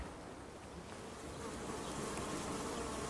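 Honey bees swarm and buzz continuously around the back of a beehive in October, a dense, steady drone that holds at an even, fairly close level throughout with no talking.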